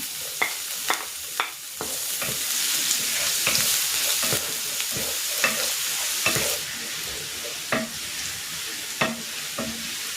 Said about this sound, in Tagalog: Using the same pan, magigisa na ako ng bawang.